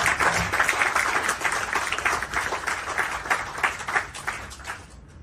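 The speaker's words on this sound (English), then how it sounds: "Give him another warm, hearty applause." An audience gives a warm round of applause to a guest speaker at an event, fairly loud, steady clapping that swells and ebbs for about five seconds before dying away.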